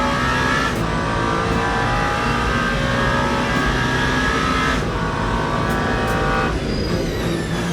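A McLaren GT3 race car in Le Mans Ultimate lapping the Circuit de la Sarthe, its engine screaming at high revs with several upshifts and a continuous loud drone, no voices.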